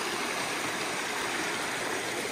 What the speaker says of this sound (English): This nice little small creek.